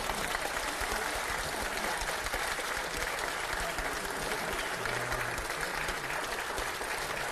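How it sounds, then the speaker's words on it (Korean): Sustained audience applause at a Korean party caucus meeting for a presidential candidate, thick, even clapping from a large room that continues without pause from start to finish. "여러분 모두 박수로."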